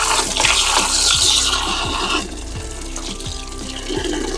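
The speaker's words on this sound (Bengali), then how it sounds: "এখন এটা ধুইতে নিয়ে যেতে হইব।" Cut eggplant pieces being rinsed under a running kitchen tap, a steady close rush of water with intermittent knocks and clatters as the pieces are handled, no talking.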